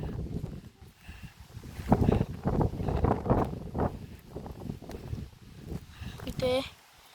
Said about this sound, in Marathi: वारा पण खूप छान येतोय।